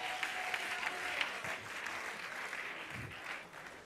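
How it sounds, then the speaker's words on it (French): An audience claps for a performer at a semi-final singing competition show, steady applause filling the room for about four seconds with no voices over it. "Est-ce qu'on peut applaudir pour Blessing Lobo, s'il vous plaît?"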